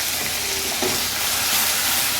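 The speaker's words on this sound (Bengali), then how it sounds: "এদিকে দেখুন, চুলোতে মাছ ভাজা কিন্তু অলমোস্ট হয়েই গেছে।" Small morola fish frying in oil in a pan on the stove, a steady close and loud sizzle throughout with faint stirring underneath, and no talking.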